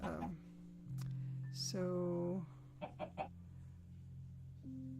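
Minecraft-style chicken clucks and short fowl calls pop up over a steady background hum, with a few brief bursts in the middle.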